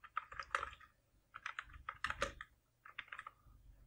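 Someone typing a search on a computer keyboard, with bursts of quick, close, crisp key clicks in three or four clusters separated by brief pauses.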